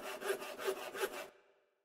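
Sawing with a saw in the video game Minecraft: four rhythmic back-and-forth rasping strokes with a slight tonal ring, then an abrupt cut to silence as the last stroke fades out.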